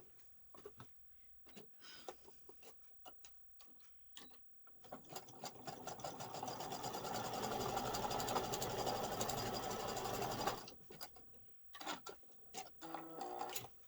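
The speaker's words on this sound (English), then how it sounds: "Having issues with my sewing machine, sorry." A sewing machine stitches a zigzag in a steady, rapid mechanical whir for several seconds, preceded and followed by short stop-start bursts and clicks as it malfunctions.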